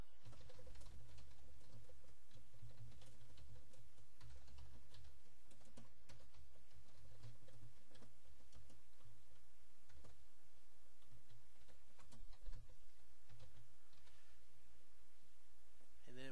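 Typing on a computer keyboard while entering text into an update, a quiet, continuous run of light key clicks over a low background hum, steady throughout with no speech.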